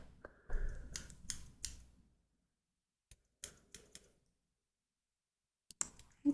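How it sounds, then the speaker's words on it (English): Small scissors trim eyebrow hairs very close by, making crisp metallic snips. A quick cluster of cuts is followed by quiet gaps and then a few more isolated snips, all soft and intimate. "Just brushing the hairs up and then trimming the excess."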